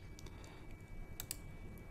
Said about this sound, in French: cliquer sur un point et le déplacer avec la touche Shift et la flèche droite du clavier